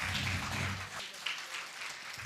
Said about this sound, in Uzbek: qo'shiq eshitishga ilhaq bo'lganlar chaldilar, qarsak, Sulton Poshsho opamga navbat bersak.